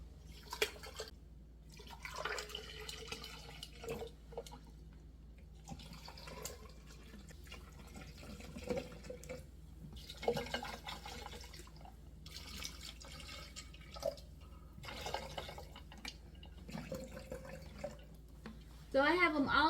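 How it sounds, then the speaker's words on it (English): Room-temperature water poured into Stanley, Temu and Five Below tumblers, several quiet splashing fills separated by pauses, with a person talking throughout. "I'm going to put room temperature water in each one of these."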